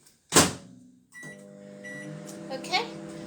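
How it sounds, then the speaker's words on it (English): A microwave oven heats cream for Christmas pudding truffles. A short clunk like a door or button press comes first, then a steady electric hum with faint background clatter and a brief voice. "I'm going to pop that into the microwave just to boil."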